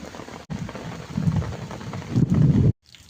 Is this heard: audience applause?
no